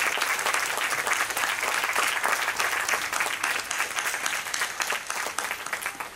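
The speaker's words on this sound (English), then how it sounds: "A huge round of applause for" Loud, full applause from a concert audience for a young performer, many hands clapping in a dense roar that swells and dips slightly over several seconds.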